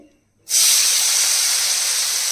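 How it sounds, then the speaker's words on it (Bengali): Finely shredded potatoes hit hot oil with a sudden loud hiss that starts after a brief quiet moment, then holds as a steady, bright, close sizzle. "সেই আলু ভাজা করছি যতটা সম্ভব হয়েছে ঝিরিঝিরি করে কেটেছি"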